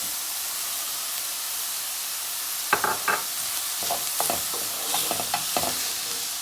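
Green onions and thyme frying in a pan for Guyanese fried eggplant, a constant hissing sizzle broken by repeated spatula clicks and scrapes in the second half.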